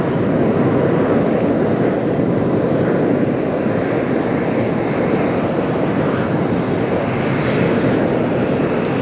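Airbus A320neo with CFM LEAP-1A engines on a crosswind landing in windy Las Vegas, a loud, steady engine roar mixed with rushing wind buffeting the microphone, continuous and close, with no talk.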